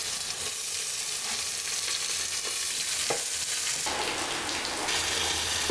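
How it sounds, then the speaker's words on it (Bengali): Rice and lentils frying together in a pot with browned onions for khichuri give a steady close sizzle. Scraping stir strokes run through it, and a louder burst of frying rises near the end, with no talking. "চালটাকে আমি হালকা ভেজে নিব, ভাজলে খিচুড়ি অনেক মজা হয়"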